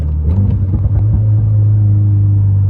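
A 2020 Subaru WRX with a manual stick shift drives in second gear, its engine a steady, loud low rumble and drone, with a few brief bumps early on, close up from inside the car.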